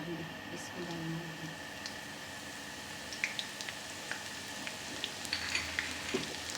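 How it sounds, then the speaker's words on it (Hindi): Chopped garlic hisses and crackles in hot oil in a wok, a soft close sizzle with scattered pops and stirring, heard beneath someone talking. "अब ये जो कटी हुई लहसुन है ये इसके अंदर मैं डाल दूँगी।"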